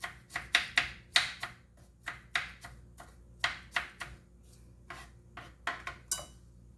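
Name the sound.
knife dicing a pear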